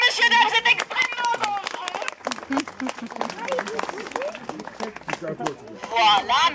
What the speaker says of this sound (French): vous pouvez applaudir, messieurs, dames